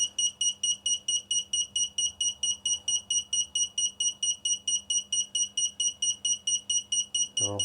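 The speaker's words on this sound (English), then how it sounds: "So that's why we're getting a beep beep beep beep beep rather than a continuous tone." Rapid, evenly spaced electronic beeps from a Pioneer amplifier's motorized volume control as it is driven from the remote, a steady pulsing alarm-like tone repeating about three times per second, loud and close with no talking.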